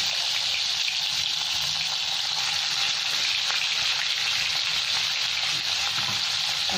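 Loud, steady sizzling of salted, turmeric-coated fish pieces frying in hot oil, continuous and close with no voices.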